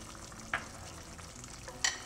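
Fried onion, tomato paste and dry spices for mutton handi sizzle softly in a pot, with two sharp scrapes or clinks of stirring over the steady frying.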